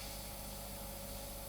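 Steady airbrush hiss spraying fine paint lines on a Revell 1/48 scale Phantom FGR.2 model aircraft, a continuous, even, close rush of air with a faint low hum beneath.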